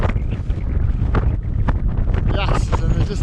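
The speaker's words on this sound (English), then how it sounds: "Flipping hitting the headwind again." Headwind buffeting a microphone on a runner during the Karkloof 100 trail race, a loud continuous rumbling roar with gusty surges, alone without talk.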